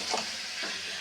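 Fried meat is stirred into a pan of cooking masala, a brief soft sizzle with scraping strokes and a sharper clink at the very end.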